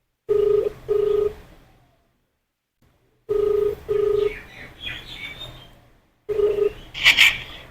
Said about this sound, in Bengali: একটা ফোন করি